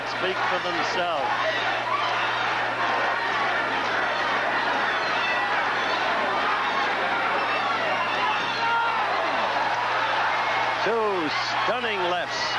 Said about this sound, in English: Chants of the crowd speak for themselves.